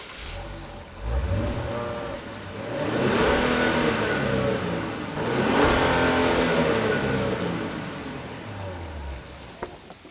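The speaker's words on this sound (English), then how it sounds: "let me just put a B-roll so you can enjoy the exhaust now" A 2022 Genesis G80 Sport revs up repeatedly through its dual exhaust, rising in pitch twice in long surges, loud and close, with a deep rumble between.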